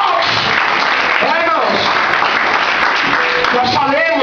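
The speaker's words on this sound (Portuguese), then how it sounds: "Dá uma salva de palmas para Jesus." A church congregation in Araucária, Brazil, claps steadily and densely throughout a service, with voices calling out over the applause.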